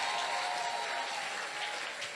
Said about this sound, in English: You can't clap for yourselves.